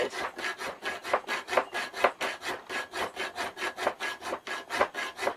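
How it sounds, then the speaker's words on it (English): Steady back-and-forth rasping as a hand rasp files a Harley-Davidson XG 750 Street motorcycle side stand in a shed, a close, even rhythm of about three strokes per second with no talk. "we know we were using a rasp because the file's too small"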